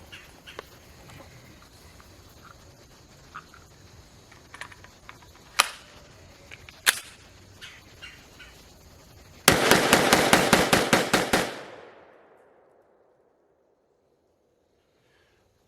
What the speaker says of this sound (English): we're going to try and fire these off as quickly as possible